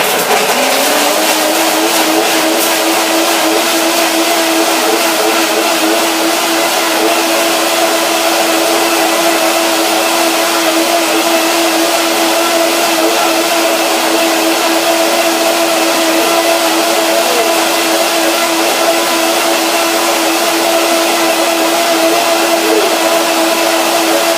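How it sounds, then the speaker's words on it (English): A blender runs continuously at high speed, whirring a raw vegan sour cashew cream dressing, a loud steady motor drone that holds from start to finish with no voices. "So let's see the blender dance to get the dressing ready."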